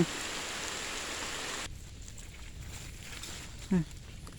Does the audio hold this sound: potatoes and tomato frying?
no